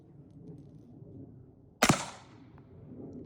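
A single gunshot from a short-barreled 300 Blackout rifle outdoors, one sharp crack at mid-distance over quiet background noise.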